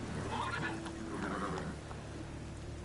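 Roach, a horse in The Witcher 3: Wild Hunt, gives a short whinny over a steady low game ambience, with a faint voice present.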